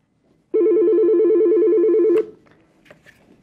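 An Ooma office desk phone rings with a single warbling electronic trill lasting nearly two seconds, loud and close, then cuts off into a quiet room with faint handling clicks.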